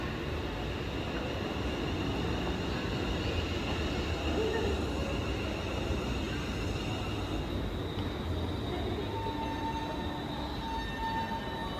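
Class 350 four-coach electric train pulling away from a platform at Stoke-on-Trent station, bound for Crewe, a steady, continuous rumble of wheels and traction noise close by throughout, with faint station ambience.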